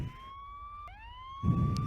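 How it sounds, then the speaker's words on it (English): A video game police siren wails in a steady tone, then sweeps upward, with a burst of low rumbling noise near the end, moderately distant. "Oh no, there's sirens. That's not good."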